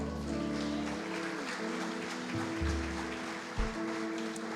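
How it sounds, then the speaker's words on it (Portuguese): Congregation clapping in a church service after a closing prayer, a moderate spread of hand claps with a low organ or keyboard tone sustained beneath and a brief thump near the end. "Você pode aplaudir ao Senhor?"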